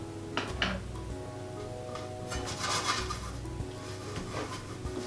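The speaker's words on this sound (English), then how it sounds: "just rub some coconut oil on the surface of the tray" Coconut oil rubbed by hand over the flat surface of a baking tray for cookies: faint, soft rubbing and scraping with a few light metallic knocks, close and quiet, with no talking.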